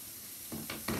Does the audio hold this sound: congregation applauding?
no